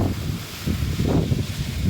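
A strong gust roars close against the microphone outdoors at a small stadium during high winds, a brief, steady, loud rumble with rising and falling swells and no voices.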